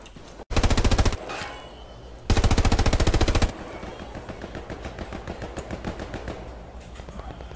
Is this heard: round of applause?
no